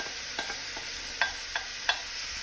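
Lamb pieces browning in olive oil and rendered lamb fat in a pan, a steady soft sizzle broken by a handful of sharp metallic clinks and scrapes as the meat is turned.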